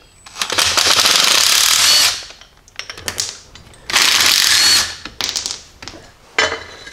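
A 9/16 ratchet or power driver spins off Jeep sway bar link bolts in several loud bursts of whirring and rattling, separated by short pauses and lighter clicking.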